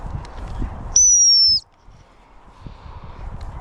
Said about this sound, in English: then we'll hit the sit whistle